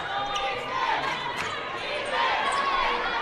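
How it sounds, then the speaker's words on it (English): A college basketball arena crowd at a Lubbock Christian (LCU) game against Texas A&M-Commerce, a steady murmur of cheering and chatter with a commentator talking over it. "the LCU crowd getting into it with their team trailing by 5 points"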